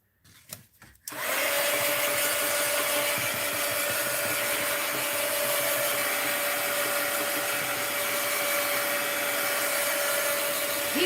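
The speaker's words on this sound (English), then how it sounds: "Heat gun alert." A heat gun drying a mixed media art journal page gives a loud, steady blowing roar with a faint whine. It starts after a second of quiet handling noises and runs unbroken to the end.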